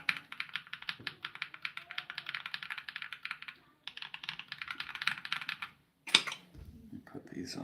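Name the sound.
typing on a mechanical keyboard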